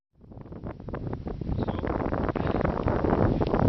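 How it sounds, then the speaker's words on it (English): Strong wind buffeting the microphone on a mountain hike near Monviso, a loud, rough, continuous roar that rises from silence and keeps building in gusts, close and alone. "it's quite windy"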